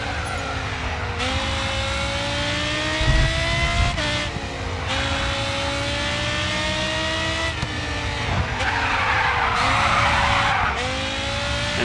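A race car in the Grid 2 racing game skids and drifts with sustained, loud tire squeal over a revving engine, the pitch shifting as it slides through several corners.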